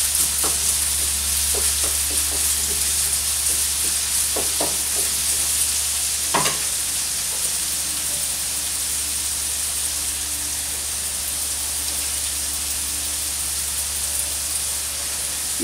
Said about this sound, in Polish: I cebula nam się tu ładnie smaży.